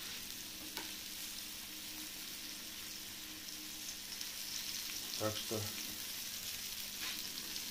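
Oil sizzles and crackles steadily in a pan as flour-dusted flounder fries, with a few clinks of utensils and a brief word spoken quietly.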